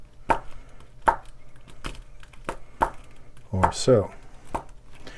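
Primers shift and rattle inside a handheld reloading priming tool in sharp, evenly spaced clicks about once per second, close and fairly quiet, with a short spoken phrase partway through.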